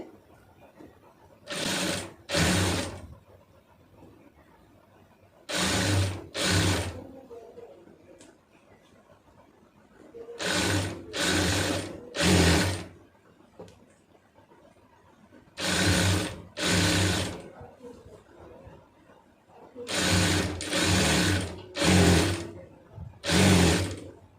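A sewing machine stitching a churidar runs in loud, rapid bursts, mostly in pairs, separated by short quiet pauses, with no talking.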